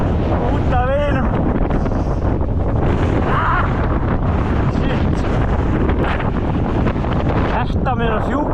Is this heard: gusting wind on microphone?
yes